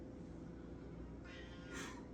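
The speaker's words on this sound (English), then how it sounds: "That is my sister's cat. I'm not sure what he wants." A male house cat meows faintly in the background of a home kitchen during pumpkin cookie baking, with a couple of short, thin calls near the end over a low steady hum.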